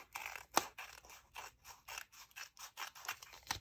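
Scissors snipping through material while finishing a handmade journal with a DVD-case cover, a series of about a dozen crisp, evenly spaced cuts, close and clear with no talk.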